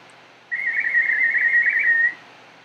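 A person whistles a single sustained, warbling high note for about one and a half seconds, imitating a bird's call, clear and close against a quiet background.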